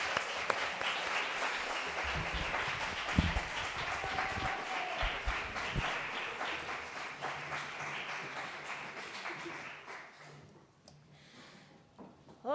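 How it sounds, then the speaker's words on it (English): An audience at a literary reading event applauds steadily with dense overlapping claps, holding loud for about ten seconds before thinning and fading near the end. "give them a really hard, big applause"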